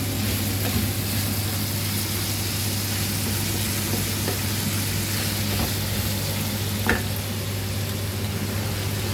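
Gourd is stir-fried with minced pork in a pan, giving a constant, even sizzle with a low steady hum underneath and an occasional faint clink of utensils.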